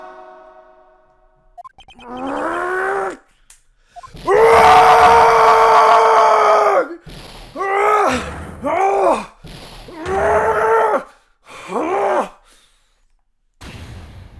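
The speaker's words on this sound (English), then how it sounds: "That scream. I've heard that scream before." A screaming voice in the video game Phoenix Wright: Ace Attorney, heard as a long, loud cry followed by several shorter, strained wails and moans in a row, close and without other sound behind it.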